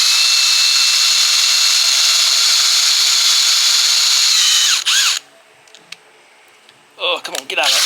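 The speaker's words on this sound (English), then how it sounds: "what I like to do is I like to drill these out" A power drill whines steadily and loudly for about five seconds, drilling out a metal vacuum line, then stops; after a quiet pause, a few short bursts of drilling follow.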